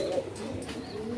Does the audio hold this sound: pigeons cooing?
yes